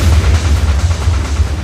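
Deep, sustained roaring rumble from an explosion on a burning offshore oil platform, the Piper Alpha, loud and continuous with heavy low-end boom and no voices.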